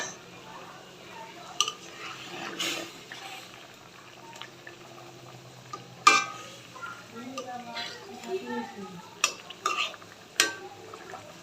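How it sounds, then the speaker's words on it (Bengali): Rohu fish goes into a pot of simmering potato curry with a gentle bubbling underneath, a few sharp utensil knocks against the pot and faint stirring, fairly quiet and close, with murmured speech at times. "আলুটা মোটামুটি সিদ্ধ হয়ে গেছে, আমি এখন দিয়ে দিচ্ছি মাছ"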